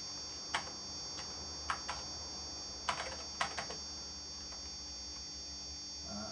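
Keys clack in short, irregular bursts on a Commodore 64 keyboard as someone types a BASIC program, close and isolated over a steady electronic hum, with no talking.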